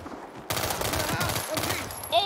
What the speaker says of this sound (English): Okay, this is an auto pistol.